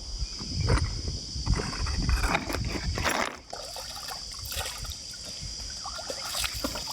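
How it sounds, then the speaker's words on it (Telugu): Water splashed by hand while washing a face at a natural rock pool beside a big rock at Siddeswaram: close, uneven splashes and trickles that are busier at first and then settle into a softer, steady dribble. "ప్రకృతి అందించిన నీళ్ళతో ముఖాన్ని అయితే కడుక్కుందాం"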